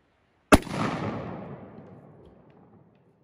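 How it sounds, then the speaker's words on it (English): A single gunshot fired at a box outdoors: one sharp, loud crack followed by a long rolling echo that fades over a couple of seconds. "So you can rack it and shoot it some more."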